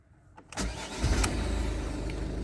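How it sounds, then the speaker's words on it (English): A cheap used car that sat overnight cold-starts with a brief cranking whir, catches, and settles into a steady, fairly loud idle, close up with no talking. "We'll do a quick cold start test again"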